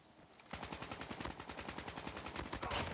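Rapid automatic gunfire from a Call of Duty match, sustained bursts of closely spaced shots after a brief quiet start, loud and continuous throughout.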